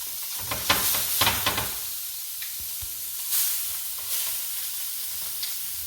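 Pepper-crusted steaks searing in a pan for steak au poivre: a soft, steady sizzle at moderate level with a few sharper crackles early on and occasional louder spits; no talking.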